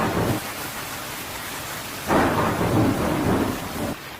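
A cartoon thunderstorm with heavy rain, a constant hiss of rainfall pierced by a deep rumble of thunder that swells midway and rolls on before easing.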